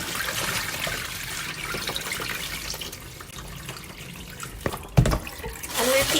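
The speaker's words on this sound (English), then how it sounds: "just want to wash it like this. Get all that starch out of the rice." Steady splashing of running water with swishing and stirring as rice is rinsed of starch, a brief clatter near the end, no talking.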